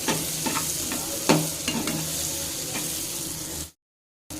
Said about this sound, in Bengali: একটু গোল্ডেন ব্রাউন করে বেগুনটাকে ভেজে নিতে হবে